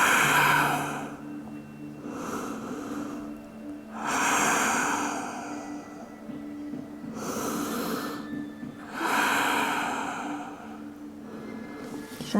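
Slow, deep breathing at rest in child's pose during a yoga flow: three long airy breath cycles, each a steady swell and fade, close and clear with no talking.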